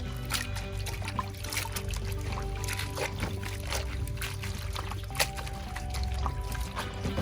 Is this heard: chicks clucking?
no